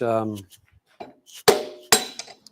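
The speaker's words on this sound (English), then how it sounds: "just using the soft hammer instead of using my hand" A soft hammer taps on metal in a home workshop shed, two sharp close knocks following a short burst of a man's speech.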